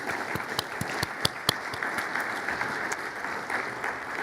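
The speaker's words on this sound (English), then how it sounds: "I would like just one more big round of applause for all the people who've been up front" A crowd at an intrapreneurship forum gives a round of applause: a soft, sustained patter of many hands with a few sharper individual claps standing out, heard from some distance.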